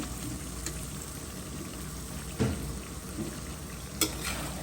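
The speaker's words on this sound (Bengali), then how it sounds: "এখন আলু দিয়ে কষিয়ে নেব" Potatoes frying with chicken curry in a pan, a dense steady sizzle and bubbling close up, broken by a couple of sharp stirring knocks.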